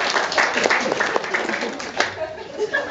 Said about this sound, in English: Give yourselves a round of applause for coming out.